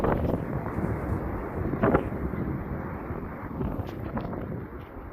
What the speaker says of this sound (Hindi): तेज हवाओं के साथ बर्फबारी का ये वीडियो आप देख पा रहे हैं।